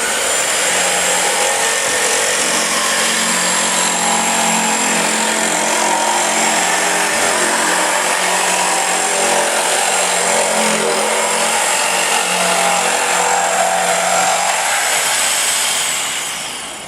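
A jigsaw cuts through material with a loud, continuous, close buzzing rattle that holds steady for about sixteen seconds before winding down.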